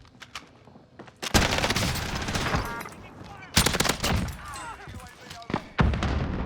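A nail gun fires in Call of Duty Warzone in rapid, rattling bursts of sharp mechanical shots, loud and close, separated by brief pauses, with people talking underneath.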